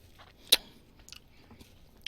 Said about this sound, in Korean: 근데 제가 쩝쩝 소리가 납니다.